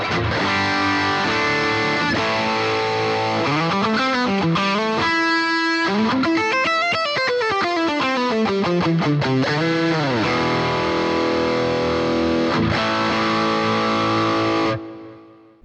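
A loud, heavily distorted electric guitar through the TSR Mega Drive patch on a Boss GX-100 plays a gritty riff with sliding bends and sustained chords, dense and continuous, ending abruptly.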